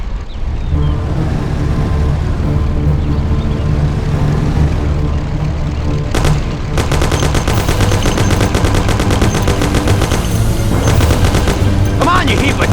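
Thompson submachine guns rattle in a Mafia video game mission, loud and close. Dense rapid bursts play over a constant engine drone, and the firing grows heavier in the second half.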